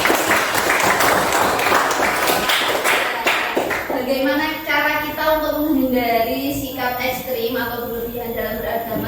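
A brief burst of clapping from a class audience for Mas Rizky during a teaching-practice session, lasting a couple of seconds before a voice starts speaking over it.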